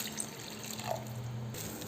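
Water runs steadily into a cooking pan while brinjal puli kulambu is prepared, with tomatoes sautéed first; a continuous close, moderate pouring hiss with a small splash near the middle.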